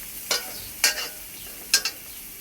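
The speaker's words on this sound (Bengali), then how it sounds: "মশলাটা ভালোভাবে কষাতে দেব।" Spice paste is stirred in a frying pan over steady sizzling oil, with three scraping strokes of the spoon standing out against the continuous hiss.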